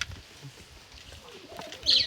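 Pigeons give a soft, low cooing call late in the clip, followed by a brighter chirp, over a faint background rustle.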